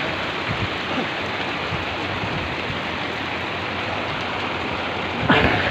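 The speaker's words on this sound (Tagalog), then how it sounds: "Ay, umuulan na." Steady rain falls in a dense, even hiss, close by and moderately loud, with a brief bump of louder noise near the end.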